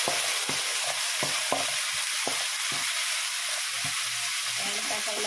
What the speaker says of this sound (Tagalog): kakailangan haluin na natin medyo madurog yung kamatis